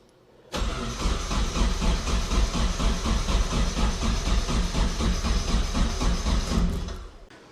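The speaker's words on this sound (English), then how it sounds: "I need to crank the engine to build oil pressure to get to the turbo anyway" A Datsun wagon's turbocharged engine cranks on the starter without firing, a fast, even rhythmic chugging that begins abruptly, holds steady for several seconds close up, then cuts off.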